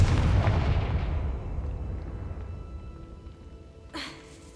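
A Confringo fire spell explodes in Hogwarts Legacy with a heavy, booming blast that rolls away over several seconds, followed by a sharper, smaller burst near the end.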